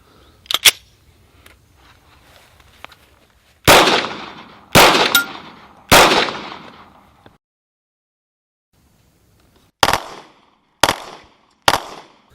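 A Glock 18C pistol is fired on a range in several separate sharp reports, close and loud, each cracking out and trailing off, with gaps of quiet between them.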